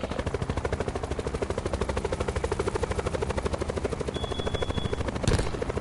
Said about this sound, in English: look at these two helicopters, like they're crashing each other, they fighting right now